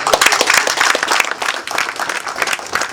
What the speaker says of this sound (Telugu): Give a big clap.